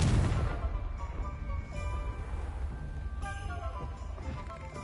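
A blasting-curse explosion in Hogwarts Legacy opens with a loud boom that trails off into a rumbling, crumbling decay, followed by fainter debris and ambient game sounds.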